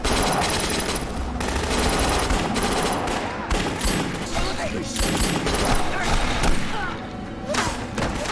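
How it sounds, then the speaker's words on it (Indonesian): Staged gunfire shootout between police and armed robbers carrying money in the Korean TV series Money Heist: Korea, heard as a dense, continuous barrage of rapid shots, thuds and crashes with no break across the whole stretch. "polisi datang dan baku tembak pun terjadi"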